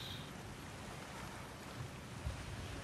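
Running water in the God of War Ragnarök video game mine area, a soft continuous rushing wash with slight swells, fairly faint and steady, without any voices.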